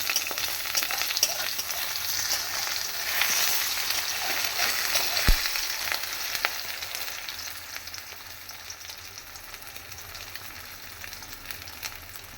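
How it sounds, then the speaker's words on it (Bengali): Whole egg frying gently in a pan, a soft continuous sizzle with a brief sharp tap of a utensil midway, fading slightly toward the end. "এবার আমি ডিমটা ভেজে নিচ্ছি।"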